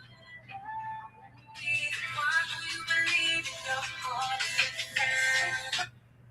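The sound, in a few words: phone ringtone from an incoming call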